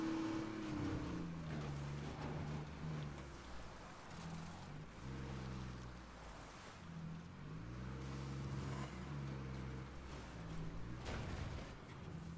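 An ambulance in a post-apocalyptic game driven hard off-road, its engine droning and shifting pitch as it revs and bounces over rough ground, steady and fairly loud throughout.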